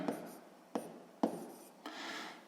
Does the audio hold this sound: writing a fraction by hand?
yes